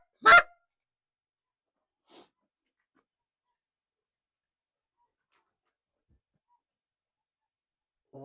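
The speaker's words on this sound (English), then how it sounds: "There's geese, right? Yeah, those are geese." Geese honk outdoors near a duck-hunting blind: one loud, sharp honk, then a fainter call a couple of seconds later and another at the end, with near silence between.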